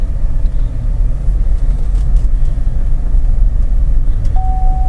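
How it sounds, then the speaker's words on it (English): A car rolls off slowly with a steady low engine rumble and road noise, loud and continuous throughout, with no voices. "I'm going to start driving slowly."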